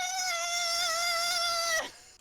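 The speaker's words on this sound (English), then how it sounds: "Cat, that is way too loud." A cat lets out a loud, sustained, tonal yowl lasting nearly two seconds before breaking off abruptly, heard alone and close.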